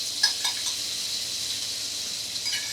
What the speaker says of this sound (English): It's a nice knob of butter into the pan, and a bit of oil just to stop it burning.